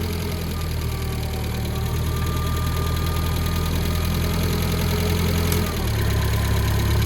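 A Tennant 355 ride-on floor sweeper engine idles steadily and loudly, a continuous mechanical drone that shifts to a lower, rougher tone near the end.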